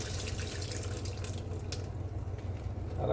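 A kitchen faucet runs steadily into a sink as salad greens are rinsed of sand, a close continuous splashing stream with faint drips and a brief swell near the end.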